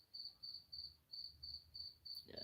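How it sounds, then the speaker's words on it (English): Crickets chirp in evenly spaced, high-pitched bursts that repeat steadily with short gaps, faint and close, ending with a brief rustle. "the more different types of crickets you have chirping at once"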